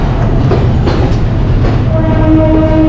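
Sri Lanka's Vistadome mountain train pulling out of the station, a loud, close, continuous rumble of wheels and carriages with faint clicks and a sustained tonal whine toward the end.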